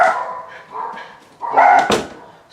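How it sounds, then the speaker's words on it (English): A pet dog barks indoors at home, giving several close, loud barks and yips in an uneven rhythm, with a whimpering quality between them. "he's barking because the reason why he's barking because he can hear Mom home"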